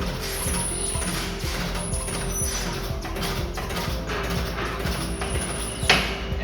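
A foot pump on an Astrolift drum tipper raises a drum to working height, giving close mechanical squeaks and rhythmic clunks in steady repeated strokes over a continuous background hum, with a louder knock near the end.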